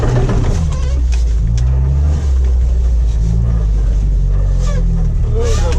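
A Jeep TJ drifting through snow while off-road wheeling, its engine a loud, steady roar right up close from start to finish, with brief voices underneath.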